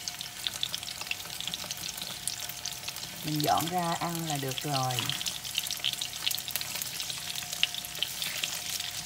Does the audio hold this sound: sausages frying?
yes